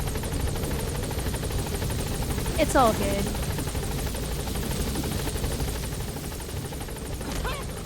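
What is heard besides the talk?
helicopter in video game Metal Gear Solid V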